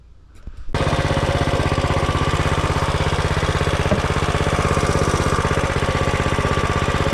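Coleman B200R mini bike engine idling steadily and loud after a brief quieter start, its fast even pulsing beat holding close throughout with no talk.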